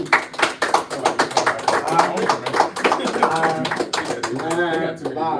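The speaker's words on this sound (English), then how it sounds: "can we please make some noise and give a hand clap for Mr. Larry Walker Jr" Audience at a podcast event claps for a guest, a rapid run of close, sharp hand claps with voices mixed in throughout.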